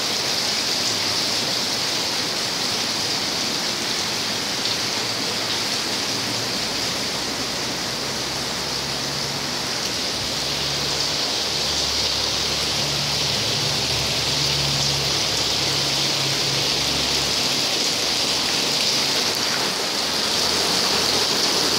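Steady rain falls on Big Island, a continuous close hiss with no talk over it, holding at an even level throughout.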